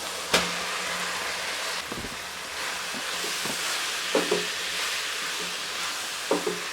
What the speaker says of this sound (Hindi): तकरीबन 2 से 3 मिनट तक मैं मूलियों को मसाले के साथ अच्छे तरीके से भून लूँगी